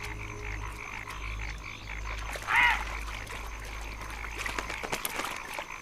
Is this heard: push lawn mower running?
no